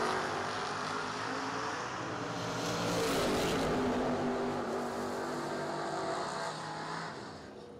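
Drag racing cars, a Monte Carlo and a Roadster Camaro, rumble and roar as a broad engine drone that swells, holds and then fades slightly, heard from a distance with no talking.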